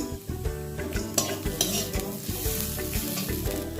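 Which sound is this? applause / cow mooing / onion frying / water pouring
onion frying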